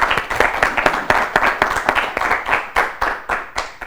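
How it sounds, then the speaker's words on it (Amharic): An audience claps for four students at a children's quiz show, a steady burst of rhythmic applause close by with no voices over it. "ለአራቱም አጨብጭቡላቸው።"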